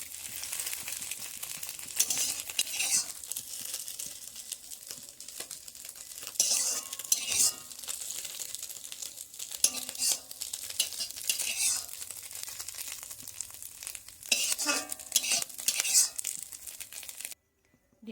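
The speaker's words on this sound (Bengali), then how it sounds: "ডিমটা ভালো করে ভাজা হয়ে গেছে।" An egg fries in a pan with a soft continuous sizzle, broken by repeated bursts of scraping and stirring from a utensil against the pan.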